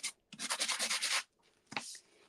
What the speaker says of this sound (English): So I'm just going to come in with a bit of a sanding.